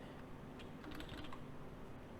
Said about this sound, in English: So I'm typing it in.